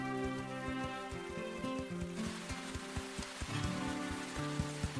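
Cartoon rain falls as a steady hiss of drops on a surface beneath ongoing music, growing denser partway through and continuing to the end.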